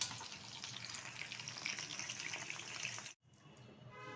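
Chicken pieces for chili chicken sizzle steadily in hot oil, a dense close frying crackle that runs unbroken for about three seconds, drops out briefly, then resumes more softly.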